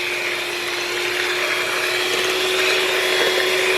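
An electric mixer whirs continuously at steady speed as it beats six eggs for a sponge cake batter, a loud, even motor drone with a constant whine and no pauses or talking.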